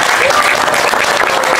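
An audience claps steadily at a religious dhikr gathering, a dense and continuous burst of applause from a crowd.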